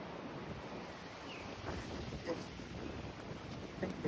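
Rough wind buffets the microphone on a windy beach in Torremolinos while big choppy waves wash and surge in the background, the surf rising in a few louder bursts near the end.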